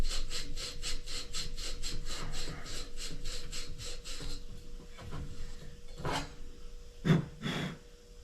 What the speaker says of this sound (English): Piece of Scotch-Brite pad here. I'll clean that up just a little bit.